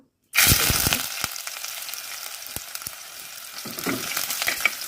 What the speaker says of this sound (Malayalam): എണ്ണ ചൂടായതിനു ശേഷം അതിലേക്ക് ഞാൻ ഒരു പകുതി സവാള